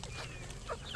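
Chickens on a Southern homestead clucking in a few brief, soft chirps over low background noise, heard only for about a second.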